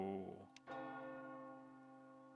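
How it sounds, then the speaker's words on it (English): In the game Another Eden, a clock tower bell tolls once with a bright strike and long ringing overtones that decay slowly, following a brief voice at the start. "The clock tower bell."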